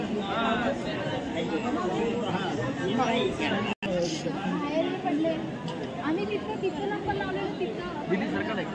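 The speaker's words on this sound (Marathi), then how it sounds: "तुम्ही गर्दी बघू शकता किती गर्दी आहे" Dense crowd chatter at the temple in Pandharpur, a steady babble of many overlapping voices close by with no single speaker standing out, apart from one brief dropout near the middle.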